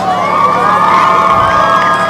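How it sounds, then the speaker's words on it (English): Large crowd at a high school football game, Leavitt versus York, cheering and shouting in a loud sustained roar with shrill young voices riding on top throughout. "We have a large crowd here."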